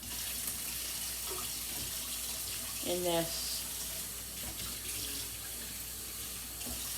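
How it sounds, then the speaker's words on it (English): Hot water runs from a kitchen tap into a sink in a steady stream while someone cooks dinner, and a voice speaks briefly over the flow. "I'm gonna put the hot water on"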